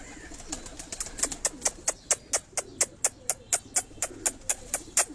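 Pigeons on a rooftop in Karachi give a steady train of short, evenly spaced bursts, about four per second, moderately near, with faint background noise and no talk.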